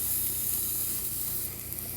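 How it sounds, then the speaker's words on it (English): Leftover smash burger taco meat sizzles in a pan, a soft, steady frying hiss with faint crackle, close and constant throughout, easing slightly toward the end. "Listen to the sizzle."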